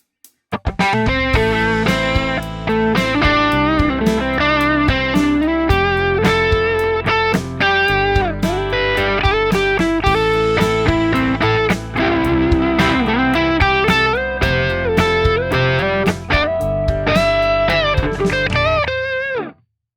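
Distorted electric guitar plays a continuous improvised minor and major pentatonic lead line of fast notes and bends over a backing, loud and unbroken for the whole stretch.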